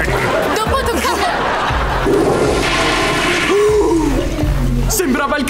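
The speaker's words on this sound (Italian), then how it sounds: "Sembrava il caratteristico sciacquone del programma TV di Joey Lawrence." A cartoon-style toilet flush sound effect from a comedy TV show plays loud and continuous, its gurgling water rush mixed with laughter, chatter and voices throughout.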